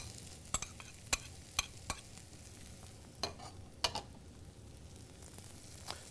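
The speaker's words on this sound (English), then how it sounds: "We're going to add our mushrooms, our minced shallot, and a little bit of sliced garlic." Mushrooms, minced shallot and sliced garlic frying in butter in a preheated pan: a quiet low sizzle broken by several sharp utensil clicks and scrapes against the pan, no talking.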